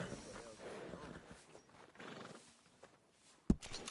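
A horse in the Western video game Red Dead Redemption 2 whinnies and snorts amid game ambience, with a voice speaking over it and a sudden loud thump near the end.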